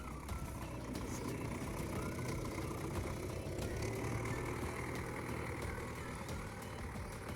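Tractor engine, an MTZ-80 or MTZ-82, drones steadily while ploughing a field, a continuous close mechanical rumble with no breaks across the whole stretch.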